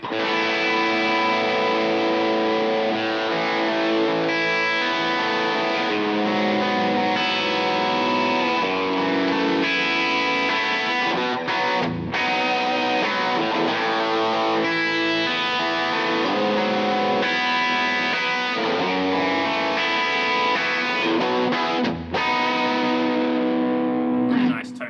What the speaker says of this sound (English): I'm just using my tube screamer going into the AC30